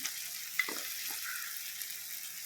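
Prawns dropped into a hot pan with curry leaves for a Tamil prawn thokku, a steady close sizzle and crackle with a brief splash as they go in.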